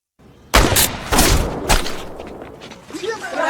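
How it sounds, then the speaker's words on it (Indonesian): Gunfire crackles in a film scene, several sharp close shots in quick succession followed by a decaying rumble and scattered noise, with a voice talking toward the end. "Jual beli tembakan pun terjadi"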